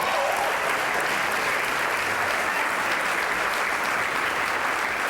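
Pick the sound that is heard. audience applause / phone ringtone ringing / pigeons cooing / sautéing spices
audience applause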